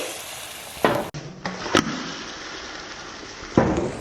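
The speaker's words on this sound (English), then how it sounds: "here we go, the infamous omelet flip" An omelette sizzles in a hot non-stick pan as it is flipped, a steady close hiss broken by a few sharp clatters and scrapes, one bang near the middle and another near the end.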